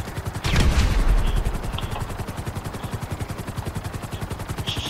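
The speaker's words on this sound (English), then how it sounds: "I'm definitely not getting into the helicopter that doesn't have guns on it." A GTA Online helicopter's rotor beats in a fast, even pulse, close and loud, after a short heavy burst near the start.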